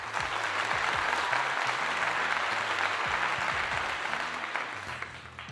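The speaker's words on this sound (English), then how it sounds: "Round of applause for that." Sustained applause from a large crowd, dense steady clapping that holds at full strength before tapering slightly near the end.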